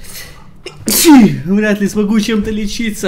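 A loud, close sneeze bursts out once, followed right away by someone speaking Russian while playing S.T.A.L.K.E.R.: Call of Misery.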